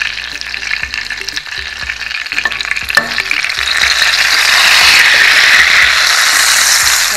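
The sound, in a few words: camembert cheese frying in pan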